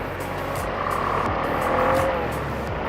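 A car rounds a corner beside a roundabout, captured from a motorcycle rider's helmet microphone. A steady, loud engine and road rumble carries through the whole stretch with a faint tire squeal, and no voices are heard.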